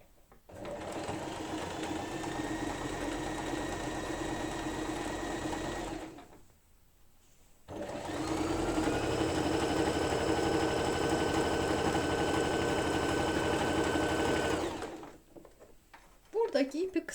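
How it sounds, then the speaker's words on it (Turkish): A sewing machine runs in two long, steady bursts of stitching, sewing a straight stitch on the lining of a crocheted bag, loud and close with a brief pause between runs. "Burada 1 santimlik boşluk verip içeriden dikiyorum."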